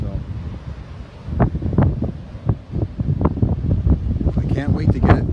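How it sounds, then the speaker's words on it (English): Strong wind buffets the microphone in heavy, rumbling gusts, with someone talking underneath. "It is really blowing hard here"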